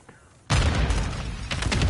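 Grenade blast and gunfire in Call of Duty: Modern Warfare 2 Warzone 2, a sudden loud, close burst after a quiet moment that rolls straight into sustained dense crackling and rumble.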